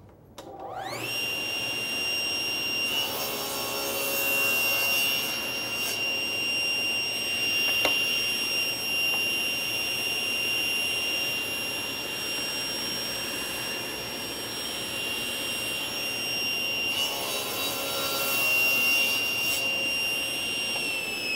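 A saw cutting two wooden door rails at once spins up to a loud, steady high whine. Two bursts of rougher cutting noise rise over the whine, one near the start and one near the end.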